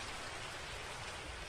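Steady rain falls in a hillside village, a dense, even hiss of drops on surfaces with no voices, constant and moderately loud for the whole stretch.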